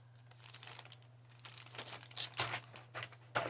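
Crinkling and rustling of a plastic bag holding two sprues from a Trumpeter 1/350 Liberty Ship model kit, close and quiet with irregular crackles and a steady hum beneath.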